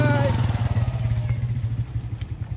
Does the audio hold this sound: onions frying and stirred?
no